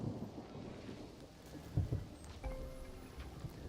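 A video-game thunderstorm, with soft rain hissing under a couple of low rolling thunder rumbles that swell briefly in the middle; the whole scene stays faint and distant.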